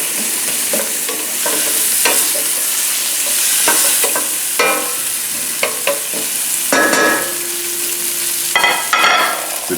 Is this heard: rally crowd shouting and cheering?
no